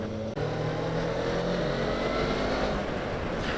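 A 2018 Suzuki GSX250R motorcycle engine drones steadily at low revs while cruising, a loud continuous hum with wind noise, with no voices.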